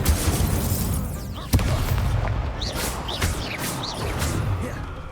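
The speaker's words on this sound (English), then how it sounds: "Incendio." An Incendio fire spell is cast in Hogwarts Legacy: a sudden sharp burst lands over a dense, roaring combat bed, followed by several rising whooshing flourishes, all loud and close.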